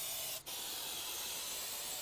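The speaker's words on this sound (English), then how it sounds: "I'm gonna spray the blades too." A steady aerosol hiss of Fluid Film lubricant sprays continuously from close by onto a mower deck, with a brief break near the start before resuming evenly.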